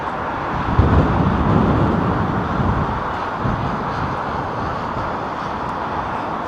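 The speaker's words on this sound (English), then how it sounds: "Oh, it's a BA flight." A British Airways passenger jet at Heathrow Airport produces a loud, broad engine roar that swells near the start and then holds steady.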